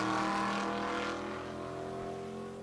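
Race car roaring past at Pueblo Motorsports Park in Colorado during a drag race, a loud sustained engine drone that slowly fades as it moves away.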